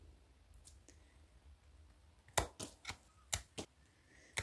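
Scissors snip the leaves off a garden plant cutting, a series of sharp, close clicks, a few spaced, soft ones first, then a quicker cluster of crisp cuts against a quiet background.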